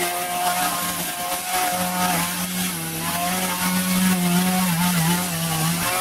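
A chainsaw runs close by, its engine holding a loud rough drone that rises and dips slightly in pitch as it is revved.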